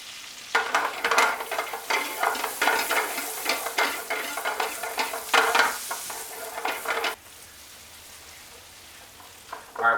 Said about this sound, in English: we got our butter melting here, 1/4 cup of butter, throwing the garlic, 2 cloves of garlic in here. I'm going to let that saute for about 5 minutes